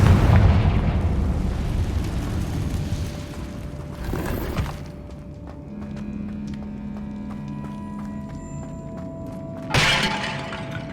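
Confringo explosive spell blast in Hogwarts Legacy, set in an abandoned cave, with a loud burst and crackling debris at the start, another impact near four seconds and a final sharp blast near ten seconds, with ambient hum between.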